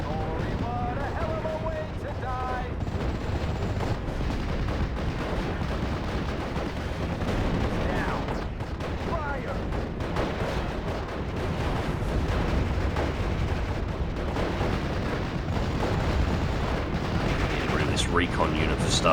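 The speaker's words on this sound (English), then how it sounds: "Artillery strikes are there." Artillery strikes and gunfire in the WWII strategy game Steel Division: Normandy 44 at Utah Beach: dense, continuous booms and rattling shots layered into a loud, unbroken battle din.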